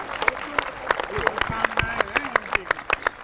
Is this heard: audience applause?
yes